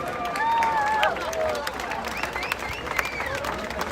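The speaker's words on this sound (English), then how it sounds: "So, a round of applause for those crazy Hungarians." Clapping from a festival crowd at a Hungarian cultural event mixes with whoops, shouts and chatter, with scattered sharp claps rather than a smooth wall of applause, fairly close and lively throughout.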